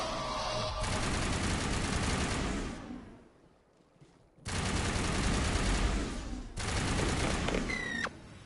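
Heavy sustained gunfire crossfire in the video game Mass Effect, dense loud bursts that drop away briefly then resume, with a few sharp electronic pings near the end.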